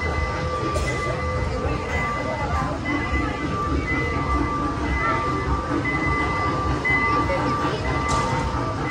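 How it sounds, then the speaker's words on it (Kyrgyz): A train rolls past in Orlando, a steady rumbling rail noise with faint tonal squeal running throughout, fairly close and continuous, with some talk mixed in. "Бул жакта бир поезд кеткен тат"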